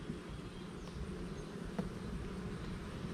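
Honey bees buzzing inside a hive during a fall mite check, a soft, continuous drone of many insects with a faint tap near the middle, no talking.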